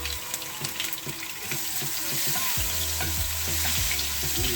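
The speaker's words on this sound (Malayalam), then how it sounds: "അതിൻ്റെ അകത്തേക്ക് നമുക്ക് ഈ ഷാലറ്റ് ചെറിയ ഉള്ളി ഇട്ട് കൊടുക്കാം." Small shallots drop into hot oil in a pan and sizzle with a bright steady hiss, alongside a few light clinks and knocks from the cookware.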